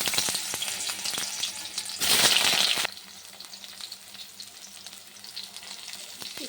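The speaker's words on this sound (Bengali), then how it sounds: "এবার এই তেলের মধ্যে আগে পটলটা একটু ভেজে নেবো।" Pointed gourd pieces fry in hot oil with a steady, close sizzle that swells into a louder burst for under a second before settling back to a softer crackle; nobody speaks.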